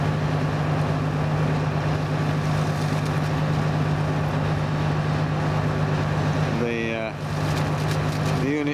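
A steady low boat engine drone on the Irrawaddy River in Myanmar hums throughout with wind and water noise, the motor running nearby; a brief warbling tone rises near the end.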